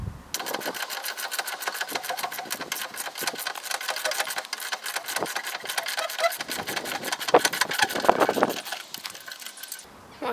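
Screws on the underbody shield of a VW 2.0 TDI are undone with a tool, producing a steady, rapid clicking and rattling that runs close and continuous for about ten seconds without speech.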